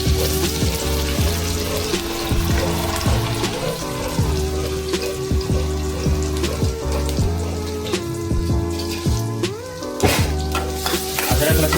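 Potato filling for vada pav crackles steadily in a pan with a chilli tempering. A dense, continuous sizzle is broken by intermittent scraping and stirring clinks, and no one speaks.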